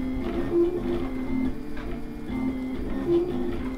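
A 3D printer works on a Pikachu model, its stepper motors humming in steady tones with two brief higher whines about two and a half seconds apart, close by and with no talking.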